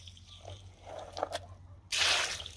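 Water trickles over soil toward a young seedling, with faint drips and squishy splashes followed by a louder, steady rush of pouring water.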